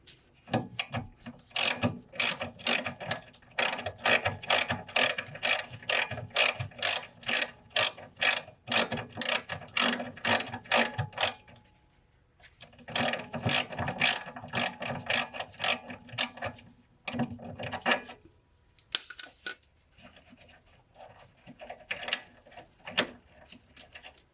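Rapid ratcheting clicks from a wrench working the e-brake cable bolt off a trailing arm on a 1992 Honda Civic hatchback, in long steady bursts with short pauses, close and fairly loud.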